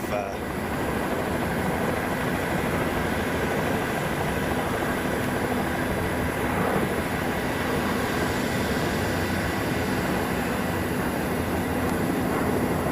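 A Boeing aircraft on a test flight over Boeing Field produces a loud, steady, broadband roar that holds constant, distant and unbroken, with no clear rise or fall.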